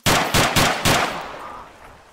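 Automatic gunfire in the Arma 3 battle royale game: four rapid, loud, close shots in a burst, followed by a trailing echo that fades out.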